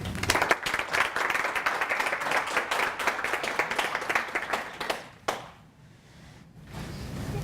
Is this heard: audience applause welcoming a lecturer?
yes